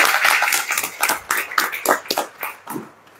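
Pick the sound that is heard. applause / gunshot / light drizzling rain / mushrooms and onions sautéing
applause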